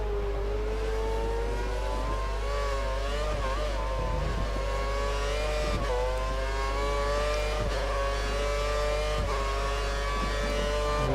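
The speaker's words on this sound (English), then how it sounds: "I'm revving a bit, so the engine's a bit hot." A Lotus Formula 1 car engine in the F1 2013 game revs loud and high, its pitch wavering steadily and dipping briefly through gear changes, droning on without pause and heard alone.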